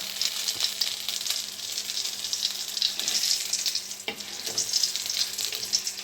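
Egg lollipops frying in hot oil, a steady bright sizzle with occasional soft clicks and stirring scrapes as they are rolled around the pan, close and continuous.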